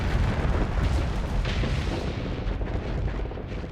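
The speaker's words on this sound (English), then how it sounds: "Plasma torpedoes have done their thing." Plasma torpedo explosions in the space combat game Starsector rumble as a dense, continuous roar of booming blasts, loud and sustained with no talking, easing slightly toward the end.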